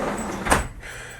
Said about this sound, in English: Just shut the door, please.